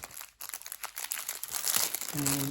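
Nail art transfer foils crinkle and crackle close up in quick, irregular bursts, rising toward the end, with a short tonal hum in the last half second.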